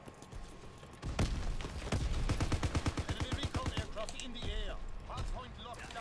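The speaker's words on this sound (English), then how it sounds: "I was just shooting at the horde." Rapid automatic gunfire in Call of Duty WW2 as a player fires into a horde, a long rattling burst of close shots under a talking voice, followed by scattered game effects.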